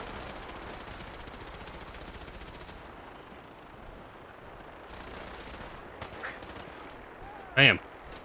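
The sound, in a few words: gunfire in video game Fallout 4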